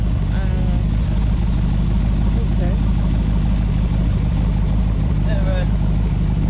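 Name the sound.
DeLorean with LS3 V8 engine idling on cold start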